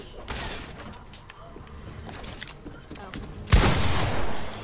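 Gunfire in a first-person shooter video game, a sudden loud burst of shots near the end over steady game background noise, with a player talking around it.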